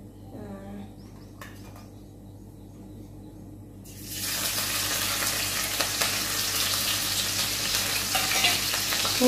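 Garlic and chili dropped into hot oil in a wok, bursting into loud, steady sizzling after a quieter start and continuing close and even to the end.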